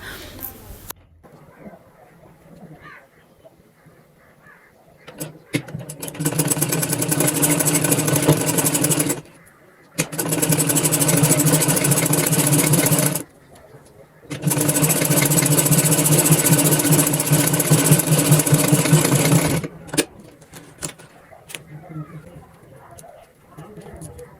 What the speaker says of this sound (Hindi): तो यहाँ पे ये देखें मैं आप सिलाई लगा रही हूँ